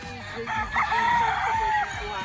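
A rooster crows once at a gamefowl farm in Barangay Bulihan, Batangas, a drawn-out call of about a second rising over a busy outdoor background, fairly close and clear.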